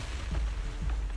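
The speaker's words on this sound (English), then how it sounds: "Several explosions around." Deep, rumbling explosions in a video game, low booms rolling together under a continuous loud roar with no clear gaps, heavy and close throughout.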